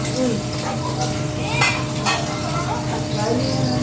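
Food sizzles steadily in a pan nearby, with occasional scraping and clinks of a utensil stirring.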